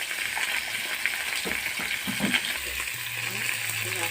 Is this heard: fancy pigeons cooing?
no